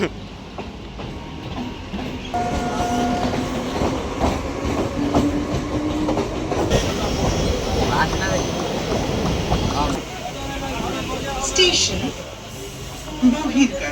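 A train arriving at a station rumbles and clatters past at close range, with rolling wheel noise and background voices throughout.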